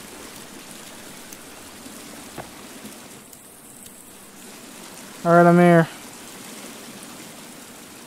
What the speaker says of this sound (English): Yo, the water loud though.